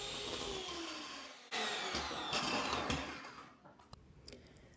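A KitchenAid stand mixer churns thick oatmeal cookie dough in its bowl, a close, strained motor whine that stops briefly, resumes louder, then fades near the end with a few clinks.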